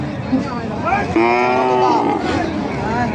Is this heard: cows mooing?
yes